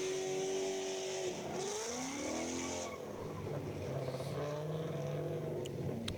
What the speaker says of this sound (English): So as they warm up their tires, Miles Flick in that blue Ford Mustang